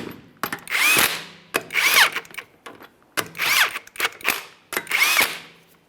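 A power tool spins 22 mm lug nuts onto the rear wheel hub of a 2007-2013 Acura MDX in four loud, close whirring bursts, each rising in pitch and ending with a brief clatter.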